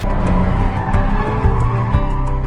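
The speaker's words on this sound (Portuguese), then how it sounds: "ele decide chamar a namorada do DK para fazer drift junto com ele depois da aula." In a Fast and Furious: Tokyo Drift movie scene, a car drifts with a loud, close engine roar and intermittent tire squeal, sounding continuously for a few seconds.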